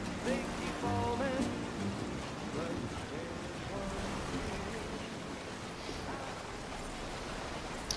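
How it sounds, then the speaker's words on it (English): Steady rain falls in the video game Death Stranding 2 as an even, close hiss that lasts throughout. Some faint tonal voice-like sounds rise over it early on. "Those raindrops are falling on my head, they keep falling."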